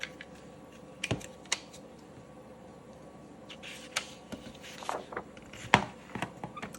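A paper punch sounds off in a craft room, snapping out border shapes from a sheet with several sharp, separate clicks at an irregular pace against quiet background noise.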